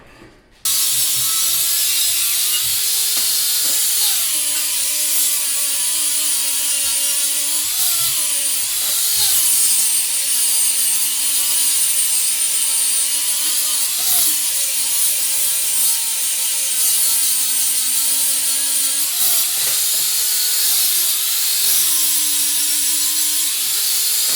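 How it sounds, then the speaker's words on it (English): An angle grinder with a fresh disc grinds down welds on a metal and aluminum table. It gives a loud, steady, continuous grinding whine whose pitch dips and recovers as pressure on the work changes. "I'll go around and I'll do a quick grind, get it close to the metal"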